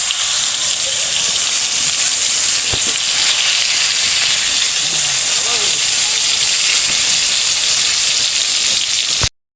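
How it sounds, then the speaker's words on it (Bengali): Eggplant slices fry in hot oil with turmeric and chili, a loud, dense, continuous hiss like heavy rain with a few faint knocks, ending abruptly. "তেল দিয়ে দেওয়া হয়েছে এখানে হলুদ মরিচ মাখানো হচ্ছে বেগুন ভাজি দিয়ে দেওয়া হলো"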